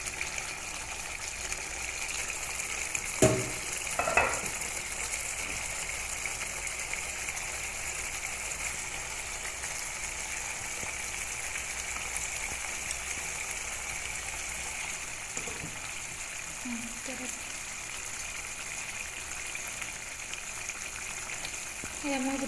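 Paneer cubes go into thick gravy simmering in a pan, under a constant low bubbling hiss, with a couple of soft thuds and clinks near the start and a few faint clicks later.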